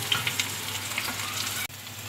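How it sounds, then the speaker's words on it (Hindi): Arvi leaves fry in hot oil with onions, giving a continuous, close sizzle with crackling pops and a brief dip near the end. "इस तरह से बढ़िया प्याज से हम इन्हें फ्राई कर लेंगे गोल्डन ब्राउन होने तक।"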